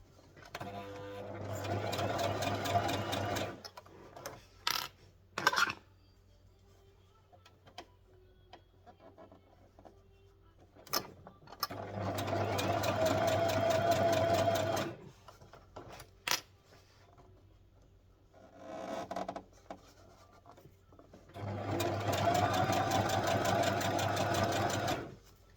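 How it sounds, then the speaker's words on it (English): A sewing machine stitches in a zipper on slippery fabric for a cosmetic bag, running in three long bursts of steady whirring, with clicks and handling noises in the pauses between. "Sewing in the zipper, it's not that easy, especially when your fabric is really slippery."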